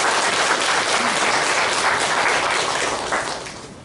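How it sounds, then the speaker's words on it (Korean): A Korean church congregation at a Sunday service in Pyeongtaek gives loud, full applause for a wedding blessing; the sustained clapping then thins and tapers off near the end. "감사의 박수를 부탁드리겠습니다"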